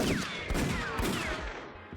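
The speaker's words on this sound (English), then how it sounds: "Even sounds like the classic cartoon gunshots where they ricochet." Rapid cartoonish gunshots from a Minecraft superhero mod revolver crack in quick succession, each followed by a descending whistling ricochet zing, loud and busy over about two seconds.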